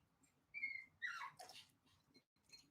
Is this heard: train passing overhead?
no